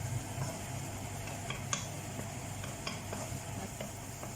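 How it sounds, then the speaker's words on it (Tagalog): Garlic, onion and ginger sizzle in a hot pan over full fire while being stirred, giving a steady close frying hiss with soft scraping and occasional ticks, alone without talk. "Bawang at sibuyas. Halu-haluin natin"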